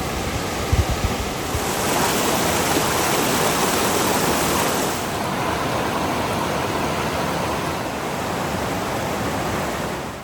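Spruce Falls in the Great Smoky Mountains near Gatlinburg roars as a steady, dense wash of flowing water, loud and unbroken from start to finish.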